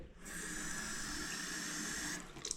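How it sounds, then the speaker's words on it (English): Tap water runs steadily from a faucet to soak a sponge while cleaning a shower head, a continuous close hiss that stops abruptly near the end, followed by a few small clinks. "The first step is just to soak the sponge with water a little bit."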